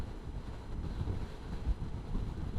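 Strong wind buffets a motorcycle rider on the Mindoro road loop, a constant low rumbling roar with occasional gusty thumps against the microphone, steady and close, with no voices.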